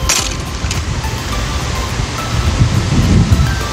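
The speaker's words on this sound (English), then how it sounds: "Oh my gosh, it's so windy. Do you guys hear those winds?" Strong outdoor wind buffeting the microphone, a loud continuous rumbling roar with gusty swells that grow stronger toward the end.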